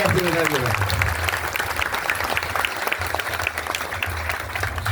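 Audience at a Gujarati Dayro folk gathering applauding Apurva bhai with loud, sustained, dense clapping from the crowd, with voices faintly mixed in.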